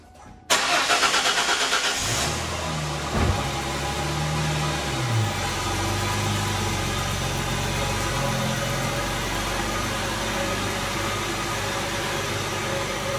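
A 2001 Ford Mustang engine cranks and catches after a crankshaft seal replacement, then settles into a steady, close idle that carries on alone for several seconds.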